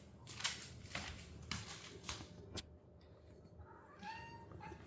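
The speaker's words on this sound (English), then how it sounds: "Ganyan siya mag-meow pag gusto na niya ng food." A cat meows repeatedly while waiting to be fed, with several clear, fairly close calls and a longer drawn-out meow near the end, over a low background hum and no talking.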